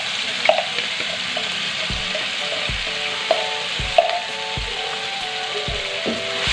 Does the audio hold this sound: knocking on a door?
no